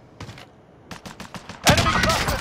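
Video game gunfire from a jump shot: quick rapid pops come first, then a loud, sharp burst of shots near the end, with some voice mixed in.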